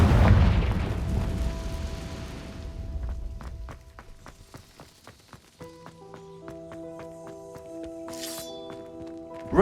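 A Confringo explosion spell cast in the video game Hogwarts Legacy bursts with a loud, booming fiery blast at the start that rumbles and fades, followed by quieter chiming game tones.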